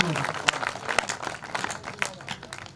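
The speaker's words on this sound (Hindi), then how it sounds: "एक बार जरा ताली बजाकर मुझे अनुमति दीजिए" Applause from a live poetry-recital audience, a dense crackle of many hands clapping that swells and thins over a few seconds, mixed with voices.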